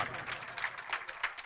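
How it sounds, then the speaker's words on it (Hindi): Applause welcomes a poet at an All India Mushaira in Nagpur, quiet, somewhat distant clapping with uneven bursts over a brief stretch, faint and thin rather than a full roar. "ज़ोरदार तालियों से उनका इस्तकबाल"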